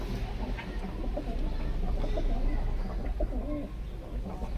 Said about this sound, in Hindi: इसमें कौन कौन से कबूतर है यूसुफ भाई आपको?